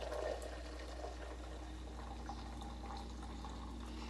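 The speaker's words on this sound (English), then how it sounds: "I'm just going to pour the boiling water over" Boiling water is poured from a kettle over tea leaves into a teapot, a steady soft splashing trickle beneath a constant low hum, fairly faint and continuous throughout.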